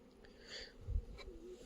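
Faint, close buzzing of honey bees at a hive with a low hum underneath, brief and quiet against a soft background.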